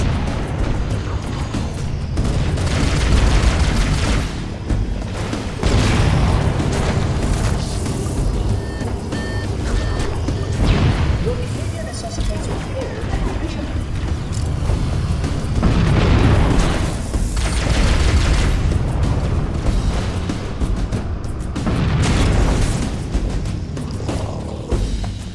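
Reactor explosions in the video game Halo CE Anniversary: loud, continuous rumbling blasts and booms layered with steady beeping alarms and heavy mechanical noise, surging repeatedly over about twenty-five seconds with no speech.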